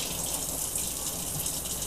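Warm tap water runs in a steady, close gush into a sink for dunking an Oreo cookie, with no voices over it.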